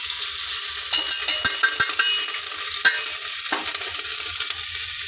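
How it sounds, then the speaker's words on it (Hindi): Green chillies frying in hot oil with carom seeds, a loud, close, constant sizzle with scattered scraping stirs and light knocks of a utensil against the pan. "तेल गर्म हो चुका है। अब हम छोड़ते हैं इसमें हरी मिर्च"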